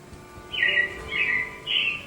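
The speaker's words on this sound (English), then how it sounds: "it looks like the Robins are getting ready to celebrate Valentine's Day today" Animatronic robins in a Disney theme park show give three bright, evenly spaced chirps with a brief pause between each, clear over a soft background hum.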